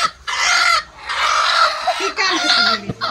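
Broody free-range country hens sitting on eggs cluck close by in a quick run of throaty, squawking calls, with brief pauses between bursts and no one talking.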